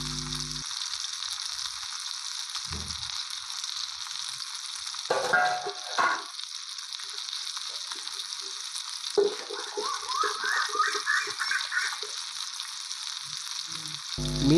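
Sankara fish frying on a flat dosa griddle gives off a steady, close, hissing sizzle throughout, with a few soft scraping and clinking touches in the middle. No one speaks.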